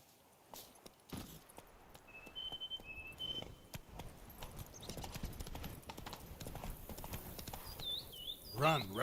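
Hooves of a horse clip-clop steadily along a path in the video game Witcher 3 Wild Hunt, with a voice speaking over the walking rhythm and a brief whinny-like sound near the end.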